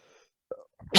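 A single abrupt sneeze bursts out at the end after a short sharp intake of breath, close and loud.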